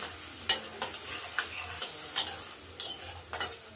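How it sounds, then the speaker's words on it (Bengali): Tomatoes frying in oil in a pan for a Bengali milk pointed-gourd curry, a steady soft sizzle broken by repeated scraping stirs of a spoon, close and without talk. "টমেটোগুলো দিয়ে দিলাম। এর সঙ্গে ভাজা ভাজা করে নেব।"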